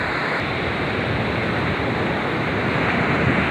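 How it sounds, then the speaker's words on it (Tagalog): Loud, steady roar of large ocean waves breaking continuously nearby at Nagbalayong beach, Morong, a dense wash of surf with no voices. "Ang laki ng alon."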